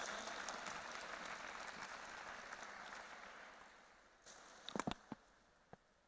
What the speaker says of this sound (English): Please put your hands together and welcome with a big round of applause, Madam Reema Parasarji